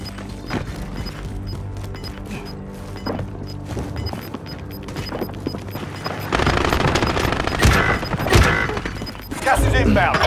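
Video game gunfire in a tactical shooter, scattered sharp shots and short bursts over steady background noise, growing denser and louder toward the end, with a voice talking at times.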